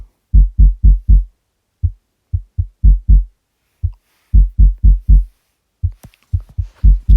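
Deep, thumping microtonal synthesizer pulses from a plugin play in uneven rhythmic groups, loud and close, with short gaps and a few brighter clicks near the end.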